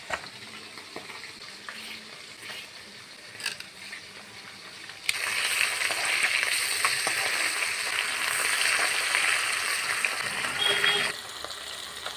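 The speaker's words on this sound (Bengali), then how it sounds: "মাছ ভাজা হচ্ছে" Pieces of hilsa fish fry in hot oil in a village kitchen, giving a steady crackling sizzle that suddenly swells louder about halfway through, stays intense, then eases slightly near the end. No one speaks.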